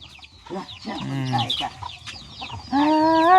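Chicken clucking near a Thai farmyard, several short uneven calls mixing with speech, then a louder sustained squawk toward the end.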